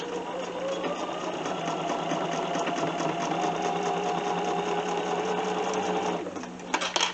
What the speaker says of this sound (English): And just start sewing and make our way across.